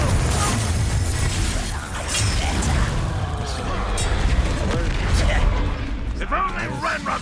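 Confringo fire spell exploding in Hogwarts Legacy, a dense run of booming, shattering bursts and rumbling impacts packed close together and loud throughout, with voices sounding over the battle noise.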